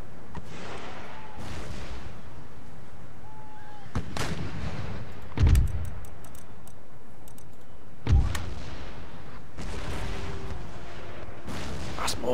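Artillery fire in the strategy game Empire: Total War, with the United States at war: a handful of heavy booming cannon shots spaced a few seconds apart over a rumbling battlefield din, with faint clicking in between.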